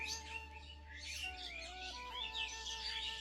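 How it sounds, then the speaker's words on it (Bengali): Birds chirping and twittering at dawn in quick overlapping calls, fairly faint, over a low steady hum. "বাসা থেকে বের হবে তো সেই জন্য কিচিরমিচির করছে"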